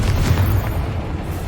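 Confringo spell explosion in the Hogwarts Legacy video game, a short, loud, deep boom that rumbles briefly and tails off.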